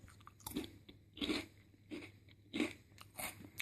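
Crisp crunches of a garlic-flavoured battered seaweed snack being chewed, about five loud bursts spaced roughly evenly with quiet gaps between bites, close to the mouth with no talking.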